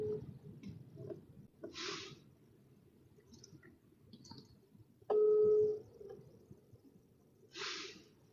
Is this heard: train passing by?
no